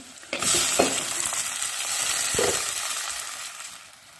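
Tomato and green chillies sautéing in hot oil for a dried fish curry, a sudden loud sizzle as they hit the pan, then continuous frying hiss with two scrapes of stirring.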